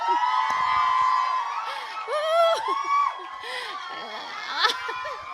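An indoor workshop audience cheers and whoops, with high excited shouts from women rising and falling in several bursts and a sharp peak near the end, all above a continuous background hum.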